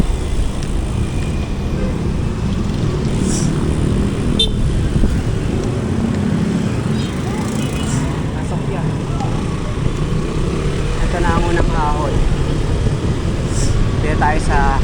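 Steady uphill road traffic rumbles on throughout, with a few short car horn toots poking out near the end as the vehicle climbs in slow-moving congestion.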